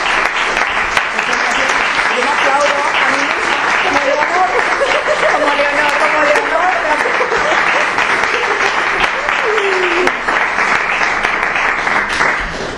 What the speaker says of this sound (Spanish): ¿qué os parece si damos un fuerte aplauso al superprotagonista del día de hoy